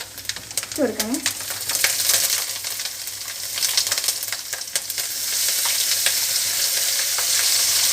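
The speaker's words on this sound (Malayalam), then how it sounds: "എണ്ണക്കകത്ത് കിടന്നൊന്ന് മൂക്കട്ടെ" Soybeans frying in hot oil with ginger and garlic, a steady crackling sizzle with scraping stirs and clinks of a utensil, a brief voice early on and the sizzle growing denser toward the end.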